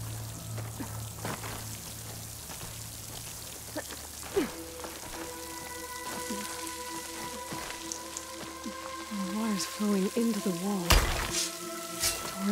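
A waterfall in the game Horizon Forbidden West gives a continuous, hissing rush of water throughout, with tonal game sounds and a voice layered over it in the second half.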